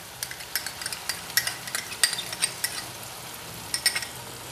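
Chicken curry with whisked yogurt is stirred in a frying pan, a soft sizzle under sharp, irregular metal spoon scrapes and clinks, close and fairly quiet.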